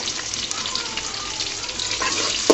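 Large chopped onion dropping into hot oil in a pan while cooking water spinach, giving a steady hissing sizzle with a sharper crackle right at the end.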